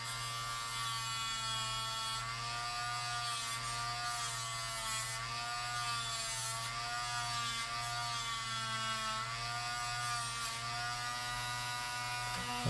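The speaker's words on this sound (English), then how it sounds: "while we're dremeling, we don't want to accidentally dremel too far and then cut the screw" A Dremel rotary tool grinds a screw flat during a repair, a steady close high-pitched whine with a low hum beneath, its pitch dipping slightly as the bit bears into the metal, with no talking.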